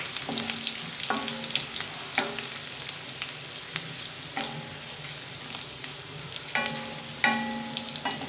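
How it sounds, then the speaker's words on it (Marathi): Green chillies and garlic sauté in a hot pan for masala pav, a steady close sizzle with periodic scraping stirs and clinks of a spatula, no voices. "आता हे छान 2 मिनिटासाठी परतून घ्यायचं आहे."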